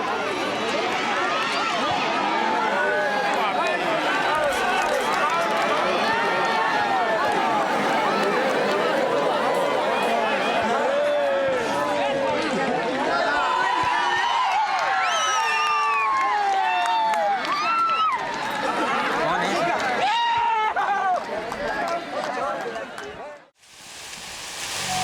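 Women cheering at a sports match on a tea garden estate, a dense, lively crowd of overlapping voices, shouts and excited calls sustained throughout, loud and close before dropping out near the end.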